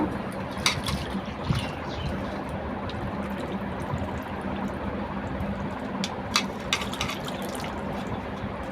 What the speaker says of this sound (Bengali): আমার শাশুড়ি আম্মা মাংসগুলাকে ধুয়ে নিচ্ছে একটা ডেক্সির মধ্যে